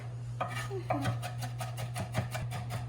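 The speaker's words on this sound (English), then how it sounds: "Just hand chopping it will work." A knife chops food on a board in a steady series of quick taps, fairly close, over a constant low hum.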